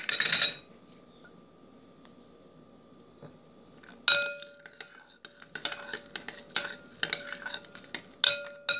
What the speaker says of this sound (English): Add a few nuts in and then stir.